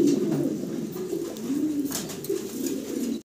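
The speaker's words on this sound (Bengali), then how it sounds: "আমরা খুব সুন্দর এক জোড়া কবুতর দেখাচ্ছি" A pair of fantail pigeons on a farm coo in low, rolling, repeated calls, close and continuous with no voices over them.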